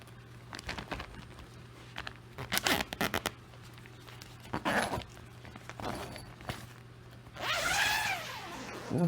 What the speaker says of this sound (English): So it's got the zipper here, you can go right in.